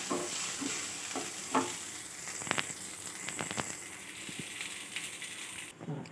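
Two kinds of nuts and raisins frying lightly in oil in a wok, a soft continuous sizzle broken by several sharp stirring scrapes and clicks.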